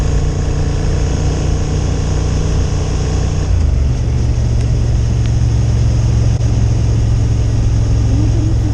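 A 2023 Honda Hornet 750 motorcycle engine, steady and loud with a low droning hum, heard up close as the pitch shifts down partway through while riding, with wind noise and no talk.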